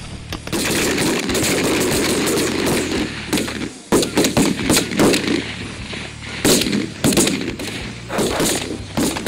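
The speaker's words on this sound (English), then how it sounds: "That's some shooting there, baby!" Rapid volleys of shotgun fire ring out during a goose hunt, loud overlapping blasts at first, then a brief pause followed by more scattered bursts of shots.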